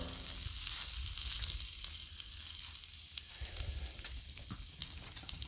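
Boca soy protein burgers sizzle and spit steadily on a Blackstone flat-top griddle, a continuous close frying hiss with scattered pops throughout.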